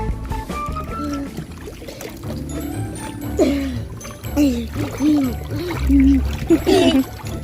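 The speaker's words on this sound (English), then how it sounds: "Splash your legs. Splash your hands and your leg." A young child splashes water with legs and hands while learning to swim outdoors, choppy irregular splashes close by, mixed with an adult's encouraging voice and the child's vocal sounds throughout.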